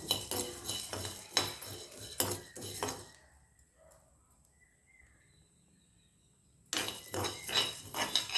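Sambar powder spices dry-roasting in a pan, with a spoon scraping and clattering against the metal in quick bursts, then dropping to near silence for a few seconds before the stirring clatter returns.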